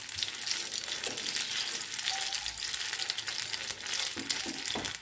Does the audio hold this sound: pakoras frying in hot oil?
yes